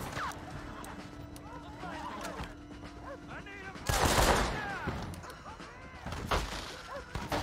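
Enemies fire guns at a house in Red Dead Redemption, bursts of gunshots and a loud barrage in the middle, with horse clip-clops, whinnies and someone talking mixed through a busy Western shootout.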